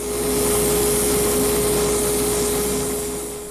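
Steady, continuous sanding hiss as 320-grit abrasive works a wooden pizza cutter handle, with a constant machine drone beneath it, loud and close.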